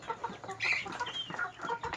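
A mixed flock of large and small chickens on a farm clucking and chattering close by, overlapping calls in a busy, irregular stream with one louder squawk rising above the rest.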